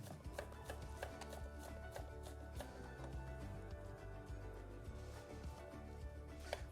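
A knife coarsely chops chili, garlic and other kimchi ingredients on a board in quick, dense, steady strokes, close and fairly quiet, with no speech.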